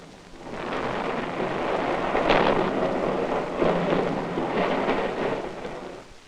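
A deep, sustained rumble from a distant nuclear explosion rolls on for several seconds, swelling and fading with a few heavier surges, distant and broad like far-off thunder.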